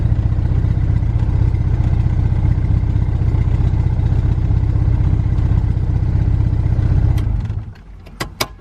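A turbocharged B20V engine in a Honda Integra idles loudly and steadily with a deep, lumpy rumble for about seven seconds, then drops away to quiet with a few faint clicks.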